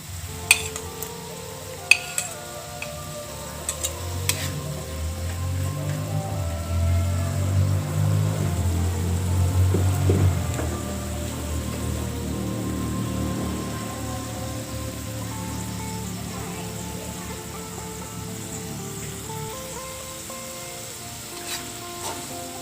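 Shrimp dropped into a hot pan while cooking gulai daun ubi, Indonesian cassava leaf curry, set off a loud sizzle that swells and then settles into steady frying, with a few sharp clinks of utensils on the pan early on.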